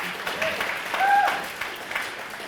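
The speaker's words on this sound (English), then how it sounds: "round of applause for all the people that showed Cory that we are not shy" A business panel audience gives a round of applause, a steady crowd clapping at moderate distance with a faint whistle and some voices mixed in.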